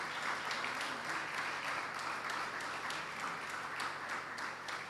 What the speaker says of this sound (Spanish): Démosles un aplauso al Señor.